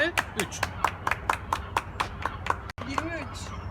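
A crowd in a park claps in a steady rhythm of sharp, evenly spaced beats during a CrossFit workout, with voices chattering and cheering underneath and a brief pause near the end.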